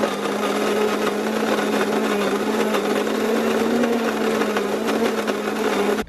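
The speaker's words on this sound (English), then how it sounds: "the coffee grinder is pretty loud" An electric coffee grinder runs loud and steady for about six seconds, a constant whirring motor hum with a bright buzzy edge that cuts off abruptly at the end.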